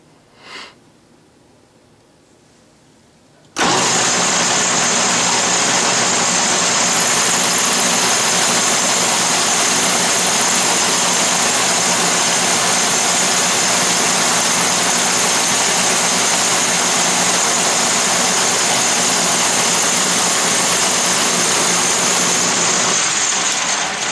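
An Atlas lathe turning metal down to diameter starts after a brief quiet moment and then runs as a loud, steady, even machine hum and whir that holds unchanged to the end.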